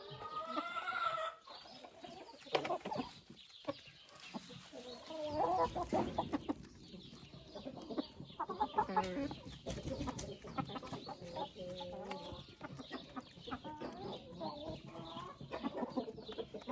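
Hens kept in a greenhouse cluck nearby in a busy, overlapping chatter of short notes, with occasional sharper calls and light rustling throughout.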